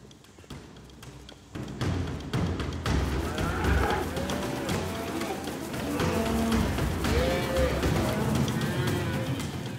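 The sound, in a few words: cattle herd moving as dingoes hunt a calf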